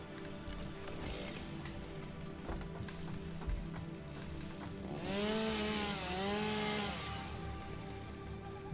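Chainsaw cutting trees in the video game Satisfactory, a buzzing engine drone with two wavering revving surges in the second half, steady and moderately loud.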